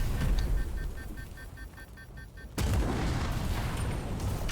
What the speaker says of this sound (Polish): Kto tu do mnie strzela?